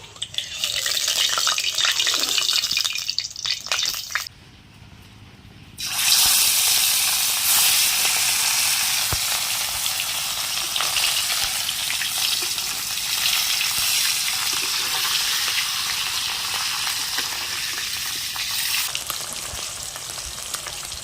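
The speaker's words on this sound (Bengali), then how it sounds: "মাছগুলো ভাজা হয়ে গেছে" Bhola fish frying in hot oil in a wok, a loud, steady sizzle and hiss that drops out briefly for a moment, then resumes strongly and continues without any talking.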